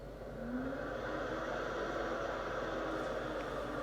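Steady broadband whooshing hum from the cooling fans of an ASUS ROG RTX 4090 Strix OC graphics card under gaming load, continuous and fairly loud with a slight rise in the first half second, no talk.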